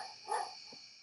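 A single short, faint dog bark plays as a sound effect in the Etoys software when an object is clicked, clean and alone.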